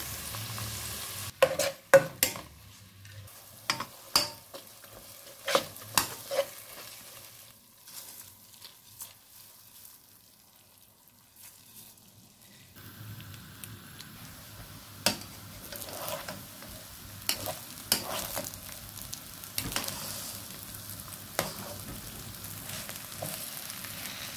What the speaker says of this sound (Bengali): এদিকে বিরিয়ানির চাউলটা ভেজে নিচ্ছি।